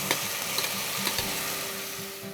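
Thinly sliced carrots tipped into a pot of vegetables sweating for salmon head soup, a few quick clattering drops over a steady soft sizzle, close and without talk.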